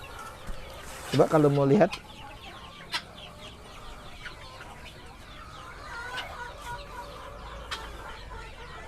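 KUB chickens on a farm give a short burst of loud, close clucking early on, then scattered quieter clucks follow while a person speaks nearby.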